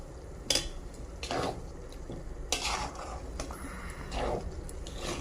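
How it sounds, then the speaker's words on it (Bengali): Fresh green peas being fried and stirred in a pan as a kachori filling, with intermittent scraping and clattering of a spatula against the pan over a soft background sizzle, close and moderately loud. "এটাকে শুকনো করতে হবে পুরটাকে, যেহেতু কাঁচা কড়াইশুঁটি, এটাকে ভালো করে ভেজে ভেজে শুকনো করতে হবে।"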